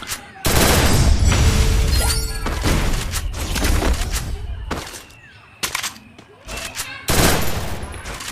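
Gunfire in the mobile game Free Fire during a lone wolf match, loud bursts of automatic shots and single booming hits that repeat in clusters, with a player talking between volleys.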